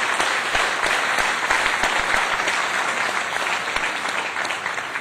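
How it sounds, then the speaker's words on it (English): Sustained audience applause at an economic summit, a dense steady wash of many hands clapping from start to finish at fairly loud level, with no talk over it. "A big round of applause for Chris."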